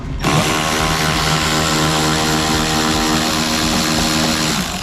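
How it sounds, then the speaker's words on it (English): A reciprocating saw gives a loud, steady power-tool whine with a harsh buzzing motor drone running continuously, close up, after a brief quiet start. "Where's my Sawzall?"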